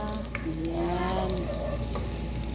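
Garlic sizzles steadily in a hot pan while cooking a chicken and vegetable soup, a close, continuous frying hiss with some stirring through it, and no one speaks.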